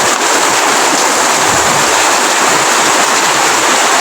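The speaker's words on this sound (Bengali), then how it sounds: "এই বৃষ্টি বাতাসও কিন্তু ভালোই উঠছে মোটামুটি" Heavy rain with hail and gusting wind in rural Rajibpur, Kurigram, heard as a dense, steady broadband roar that fills the whole clip without pause, close and loud, with no voices.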